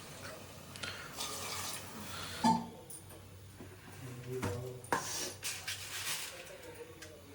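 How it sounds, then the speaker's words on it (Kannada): Water is poured into a cooking pot of rice for a field bean and tomato rice dish, a soft, steady splashing trickle heard close up against faint room noise. "ನೀರು ಹಾಕ್ತವ್ರೆ"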